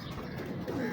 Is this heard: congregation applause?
no